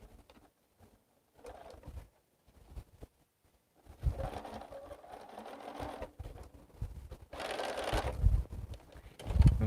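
A home sewing machine stitches in short bursts, quick mechanical whirring runs starting and stopping close by as a stitch is locked, quiet gaps between them and a louder run near the end.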